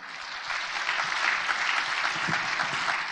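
Sustained audience applause during a Korean lecture on Korean War history honoring the sixteen allied nations, steady dense clapping filling the whole stretch without pause.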